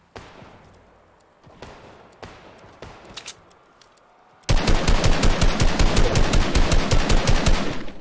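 Rapid automatic gunfire in a shooter video game, a long loud burst of evenly spaced shots after quieter game ambience and scattered faint noises.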